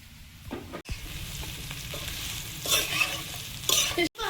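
Soybean chunks frying in a pan with already-fried potatoes, a steady close sizzle with bursts of stirring scrapes and a couple of brief gaps, no talk.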